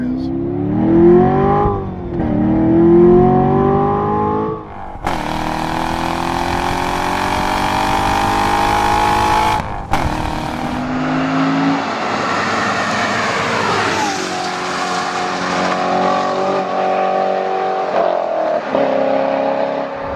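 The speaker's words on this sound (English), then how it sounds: "Notice the exhaust. This is the loudest, lowest restriction exhaust mode there is." A 2014 Chevrolet Corvette Stingray Z51 revs in its loudest, least restrictive exhaust mode, with repeated rising engine sweeps and a sustained high-rpm roar before settling back down.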